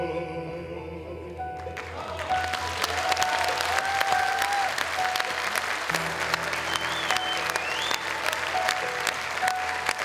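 Audience at a folk orchestra concert of Russian folk instruments breaks into applause after a moment of quiet, the clapping swelling to a dense, steady ovation that holds to the end with faint voices beneath.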